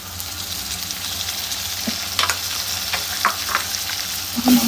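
Chopped onions fry in hot oil, browning, for a dried churi fish and egg curry, with a continuous close sizzle broken by scattered utensil scrapes and clicks.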